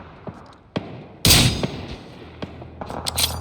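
Gunfire in an online shooter video game, a few sharp isolated shots followed by one loud burst and scattered quieter cracks, near and punchy with no voices.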